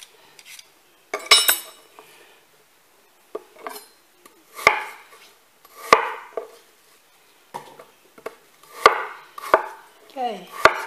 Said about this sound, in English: keep chopping up your apples